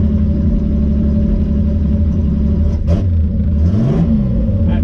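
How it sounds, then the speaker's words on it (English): A car engine idles steadily while new coolant circulates through the radiator, running hot; a low continuous rumble with a brief rev swell near the end, close and loud, with no talk. "I'm gonna get some new coolant in the radiator by running the engine for a moment"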